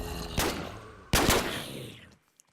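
Two loud scoped gunshots in Minecraft, modded with guns, each a sharp blast followed by a long rumbling decay, roughly three-quarters of a second apart, ending in near silence.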